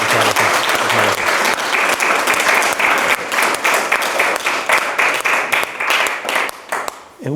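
An audience applauds author Sergio del Molino at a book event, dense and loud clapping from many hands that carries on for several seconds before gradually loosening into more distinct, uneven claps.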